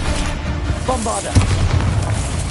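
A Bombarda spell in Hogwarts Legacy goes off in a single sharp, booming blast that rises out of a steady game backdrop, followed by low rumbling, with a voice briefly heard beforehand.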